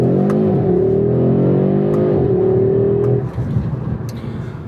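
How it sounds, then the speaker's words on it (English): A 2025 Audi RS3's five-cylinder engine revs steadily with a throaty, warbling drone that rises slightly, then drops back into a rougher, lower rumble near the end. It is loud and close. "The firing order, the sound of a 5-cylinder"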